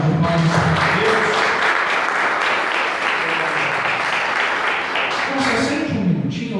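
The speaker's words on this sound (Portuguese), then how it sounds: "É uma salva de palmas para Deus." Church congregation applauding during a service, dense sustained clapping from a large crowd that runs without a break, with voices faintly mixed in beneath it.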